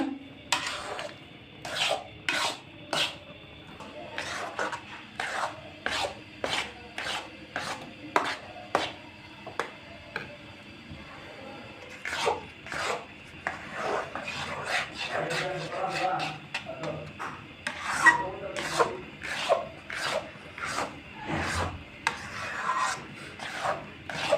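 A spoon scrapes and stirs thick chickpea lentil halwa in a pan, with steady repeated rasping strokes close up and a voice faintly underneath.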